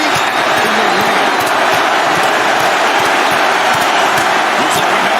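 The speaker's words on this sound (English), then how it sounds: "Listen to this crowd driving these competitors to leave everything out in the ring." Arena crowd in the WWE 2K25 wrestling game, a loud, steady wall of cheering and applause with scattered claps and shouts, continuous throughout.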